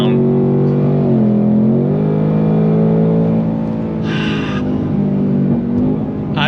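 A 2024 Ford Mustang Dark Horse V8 drones steadily and loudly from close by, with a dip and a swell in revs as it accelerates.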